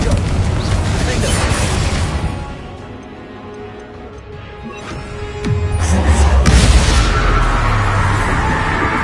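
Confringo fire spell detonating in Hogwarts Legacy on PS5, with loud blasting bursts early on and a heavier booming impact about midway, over a continuous game soundscape.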